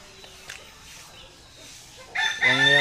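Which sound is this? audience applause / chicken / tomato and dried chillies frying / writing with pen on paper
chicken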